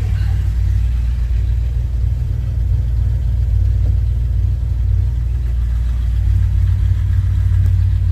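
A 1980 Chevy C10 pickup truck drives along with a steady, close, low engine rumble that holds evenly throughout, with no voices.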